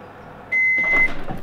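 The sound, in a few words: microwave oven cooking diced aubergine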